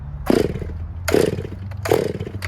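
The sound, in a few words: Stihl chainsaw engine starting and running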